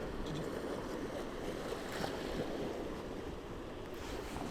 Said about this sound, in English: I've noticed these lines of waves coming through